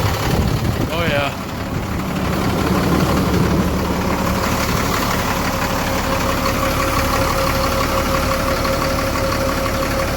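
A rear-wheel-drive truck stuck on an ice shelf, its engine running at a steady low idle rumble that stays close and constant, with a brief knock early on and people talking over it.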